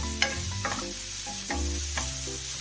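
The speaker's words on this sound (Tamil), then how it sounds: "இந்த வெங்காயம் வந்து நல்லா வதங்கட்டும் ஃப்ரெண்ட்ஸ்" Onions sauté in a hot pan for chicken macaroni pasta, a steady close sizzle with faint scrapes of stirring and no talk.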